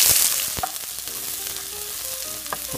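Onion and garlic sautéing in hot oil for lechon paksiw: a steady crackling sizzle that is loudest at the start and eases slightly, with a few sharp scrapes of a utensil against the pan and no talking.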